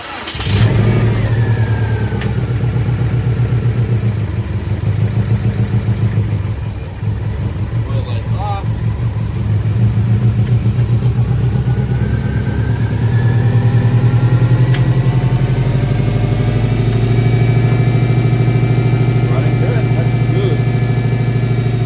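A 2005 Subaru STI engine after a head gasket repair, cranking and catching right at the start, then settling into a steady, rumbling idle that swells slightly toward the end, loud and close, with no voices over it.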